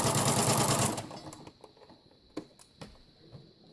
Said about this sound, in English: So we're just going to stitch all the way around the top edge of the bag.